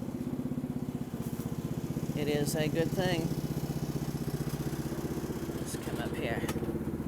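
An idling locomotive on an electric line sits at a train station, giving off a steady, throbbing mechanical rumble with a regular pulse throughout while someone speaks briefly over it.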